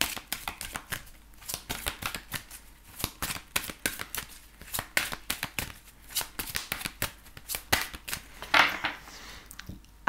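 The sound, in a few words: shuffling oracle cards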